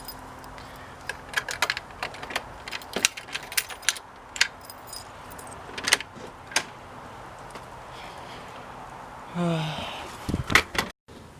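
A skeleton key rattles and clicks inside a mortise deadlock on a door, giving a series of sharp metallic taps and scrapes, close by, with a brief voice and a scraping turn near the end.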